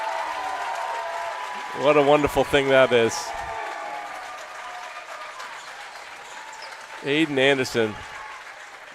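Crowd applause fills the gym at a Nokomis versus Skowhegan high school boys basketball game, a steady clapping wash under an excited commentator's voice, with louder bursts of his talk breaking through twice.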